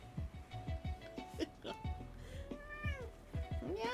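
A pet cat meows repeatedly, short rising and falling cries in quick succession, close and fairly quiet, with a couple of longer drawn-out meows near the end.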